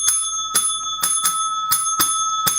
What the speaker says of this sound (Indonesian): Mana lonceng kesenanganku guys ya.